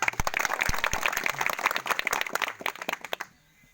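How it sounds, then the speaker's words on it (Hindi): Loud applause from an audience at a public event honouring a member of parliament in Katihar, dense rapid clapping for about three seconds, then thinning to a few scattered claps before falling quiet. "एक बार MP साहब ले जोरदार ताली दीजिए"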